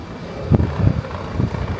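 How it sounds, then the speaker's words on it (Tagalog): Gusty wind buffets the microphone in uneven bursts, a low rumbling roar that swells and fades across open airport grounds in Taiwan. "Iba talaga yung hangin dito kasi sobrang open ng grounds. Kaya grabe yung hangin."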